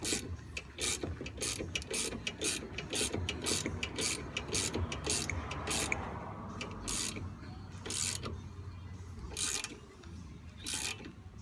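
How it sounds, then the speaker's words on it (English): A ratchet tightens number 14 caliper bolts on the rear brakes of a 2004 Chevy Impala, giving a rapid series of sharp clicks in bursts with pauses between strokes, close and alone. "And we like to get them tight with a ratchet."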